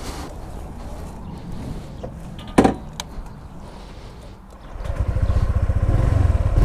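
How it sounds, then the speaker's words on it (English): A Honda PCX 125 scooter on a test ride: quiet handling clatter and a sharp click or two, then the engine starts and settles into a close, steady low putter. "So today is the much awaited test ride of the PCX 125."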